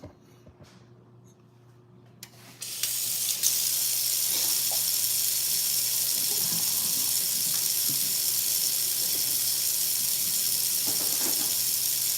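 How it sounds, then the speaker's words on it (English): A tap starts running hard into a sink as a dish is washed, the steady bright hiss of water holding loud and close after a few quiet seconds. "I gotta wash a dish"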